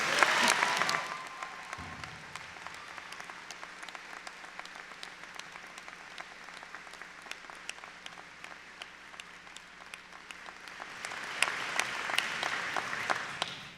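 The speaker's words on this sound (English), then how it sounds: "Give yourselves a round of applause." A graduating class of 2023 applauds at a ceremony, a steady wash of many hands clapping at moderate distance that swells near the end.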